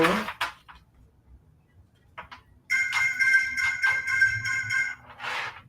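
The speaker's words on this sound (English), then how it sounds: "there's robots calling my phone" A phone rings with an electronic ringtone from an incoming robocall, a steady repeating tone lasting a couple of seconds, close and clear, with quiet room noise and brief rustling before it.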